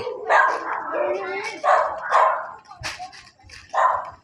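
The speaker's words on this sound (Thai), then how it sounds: "หมาเห่าเต็มเลยครับตอนนี้" Several dogs bark in bursts around a residential neighborhood during Halloween trick-or-treating, with sharp, repeated barks mixed with people talking and moving nearby.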